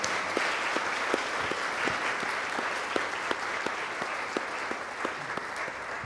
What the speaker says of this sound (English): Can we give our panel and our actor a big round of applause?